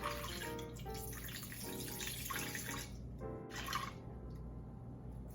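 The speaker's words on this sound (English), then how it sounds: "we are measuring for 300 grams of water" Water pours in short bursts into a bowl on a scale for sourdough bread, with faint splashing and trickling that stops and starts quietly.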